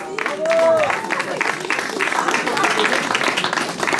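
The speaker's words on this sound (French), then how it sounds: "Vous avez donc applaudi, je pense." Audience applause at a veterans' podium of the Trail de la Paix trail race, steady outdoor clapping from a crowd, continuous for several seconds with a voice audible over it.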